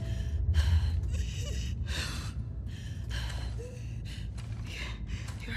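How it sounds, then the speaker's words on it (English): Labored, ragged breathing from a character in The Last of Us Part 2, a series of close, heavy gasping inhales and exhales in uneven bursts, some catching sharply, heard alone without speech. "Your breathing's worse."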